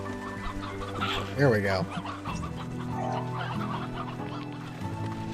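Chickens clucking in the video game Slime Rancher 2, a short burst of busy clucks and squawks, then quieter steady game sounds, with someone talking briefly over it.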